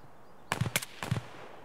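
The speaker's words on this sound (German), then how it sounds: "Wo kommen denn die Schüsse hierher?" Gunfire in the game Escape from Tarkov: two short bursts of rapid shots, the first about three cracks, the second two, fairly faint and distant with no talking.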